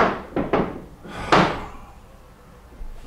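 Chairs banged by a neighbour in an apartment: three or four hollow thumps and knocks in quick succession, muffled and moderately near, with a faint later bump.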